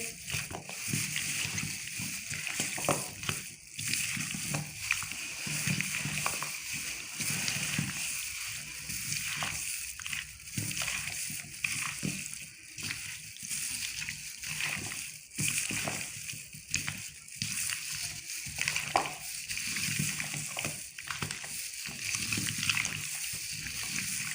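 Russian salad ingredients being mixed with fruit cocktail, wet squelching and sloshing in uneven bursts, near and moderately loud, continuing steadily for the whole stretch.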